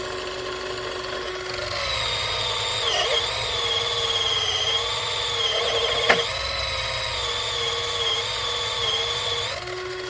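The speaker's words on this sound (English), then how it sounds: "it is sanding and grinding it down." A power sander whines steadily with a high-pitched tone that dips briefly, grinding against a resin surface, plus one sharp knock midway.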